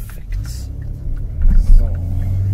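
A Kia Stinger GT in sport mode accelerating from inside the cabin, a deep engine rumble rising in loudness and pitch, with brief surges near the end.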